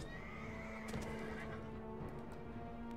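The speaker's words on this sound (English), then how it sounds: "He's just riding his horse around." Horse neighing and whinnying in the Mount & Blade Warband video game, with hoof clip-clop, heard through a steady background of game sound and battle noise.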